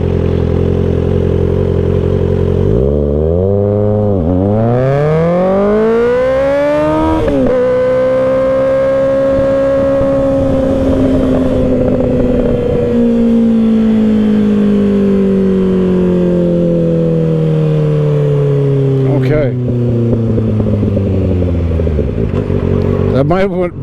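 A 2024 Kawasaki Ninja ZX-6R 636 sport motorcycle launching hard, its engine screaming up through the revs with sharp drops at each gear shift, loud and close throughout.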